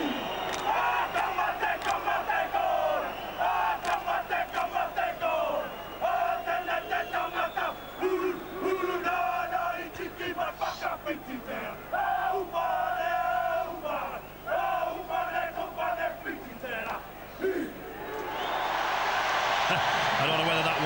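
The New Zealand Kiwis rugby league side chants a loud, rhythmic haka at the 2000 World Cup final, shouted voices rising in unison bursts over a roaring stadium crowd that swells into cheering at the end.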